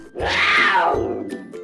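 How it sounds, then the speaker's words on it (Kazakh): A jaguar lets out a single close, rasping growl that lasts under a second and fades off. "ягуар"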